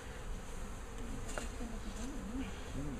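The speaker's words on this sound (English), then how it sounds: "So lovely bees." Bees humming steadily around an open Warré beehive, a continuous close buzz with wavering pitch as individual insects drift near, no talk over it.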